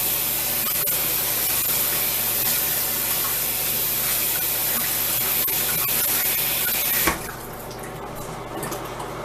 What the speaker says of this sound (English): And then you rinse it out the first time to make sure that it's fully clean.